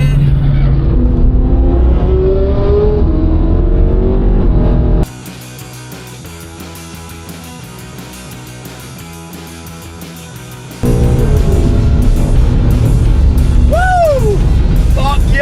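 A rally car laps the Nurburgring with its engine droning loudly; a quieter, muffled stretch in the middle gives way to loud running again, with brief tyre squeals near the end.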